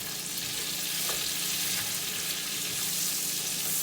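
Swedish meatballs browning in three tablespoons of butter in a pan, a steady close hiss and crackle of sizzling fat with no voices.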